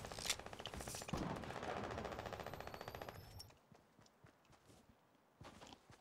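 Rapid, evenly spaced infantry rifle fire in the video game Fortnite, a dense rattling burst of shots lasting about three seconds before cutting off into quieter movement and faint footsteps.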